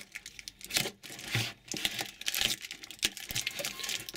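Packing tape crinkles and tears in short, irregular bursts while a parcel from China is unboxed, with close rustling of the tape and a battered box, and no talking.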